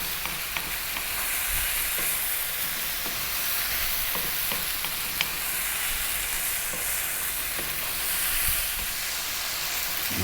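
Spicy chicken fried rice frying over high heat in a pan, a loud continuous sizzle and hiss with occasional scrapes and clinks of stirring, no talking.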